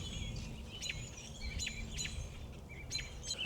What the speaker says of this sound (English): And you can just hear all the birds chirping.